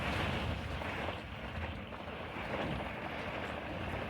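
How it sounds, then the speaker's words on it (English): Storm wind buffets a motorhome in Ireland, a continuous low roar with gusty rumbling close to the microphone and no break for about four seconds. "Still a storm blowing."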